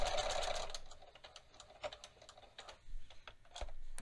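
A sewing machine stitches a button onto fabric in short bursts: a quick whirring run, then scattered single clicks and brief stitch pulses with quiet gaps between.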